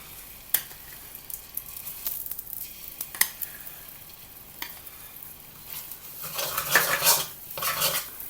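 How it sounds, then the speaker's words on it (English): Plum sugar stirred in a hot wok with the heat off: sharp metal utensil clicks and scrapes against the pan at intervals, then a softer sizzling, rustling stretch toward the end, with no voices. "We're adding plum sugar"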